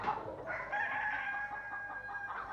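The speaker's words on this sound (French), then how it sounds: "Tu aurais dû reconnaître leur caquettement." Hens near a henhouse in a French animated film about Reynard the fox cluck in steady, overlapping calls, with drawn-out tones over a soft background.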